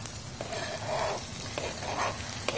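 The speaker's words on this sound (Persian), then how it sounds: "روغن نارگیل برای سرخ کردن غذا برای اولین بار من میبینم" Food frying in coconut oil in a pan, a steady close sizzle with a couple of stirring swells and small scrapes, no voices over it.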